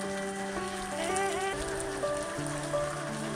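Rain falls steadily at high altitude near Tilicho Base Camp in Manang, a continuous hiss with sustained tonal sounds layered on top.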